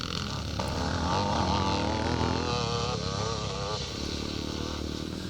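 A 600 C&J Honda classic motocross bike races in a pre-1984 class at Thornhill, Scotland, its engine buzzing and revving continuously with rising and falling pitch, fairly close and alone without voices.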